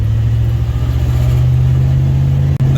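A 1962 Ford Fairlane 500 with a 221 V8 and a large four-barrel carburetor idles steadily close by, a low even hum that holds throughout, with a brief clunk near the end.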